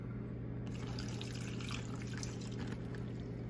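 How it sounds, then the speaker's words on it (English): A cup of soy sauce marinade pours in a thin, steady trickle, soft and close, with faint liquid splashing and no talk over it. "now we can start adding in our marinade. So we'll have 1 cup of soy sauce"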